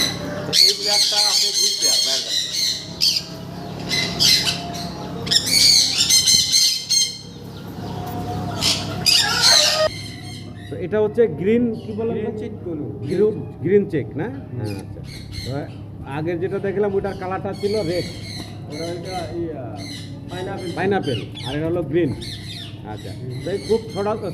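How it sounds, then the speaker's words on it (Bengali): Fancy pet birds at a farm squawk in loud, harsh bursts, dense at first and then sparser and scattered, while people talk nearby. "অসাধারণ সুন্দর দেখতে পাখিগুলো"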